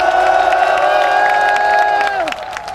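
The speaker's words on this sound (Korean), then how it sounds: "큰 박수로 맞아주십시오" At an outdoor candlelight rally in a city plaza, a large crowd claps and cheers loudly, a bright sustained tone ringing over the noise before it fades near the end.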